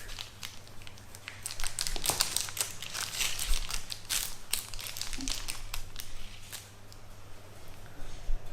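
Knife cutting through a soft, moist lemon, almond and ricotta cake, giving a steady close crinkling and crumbly crackle that continues throughout without talk.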